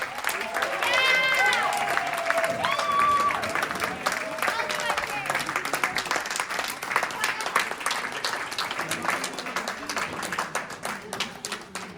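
An award ceremony audience cheers and applauds, sustained clapping throughout with brief whoops and voices rising over it near the start.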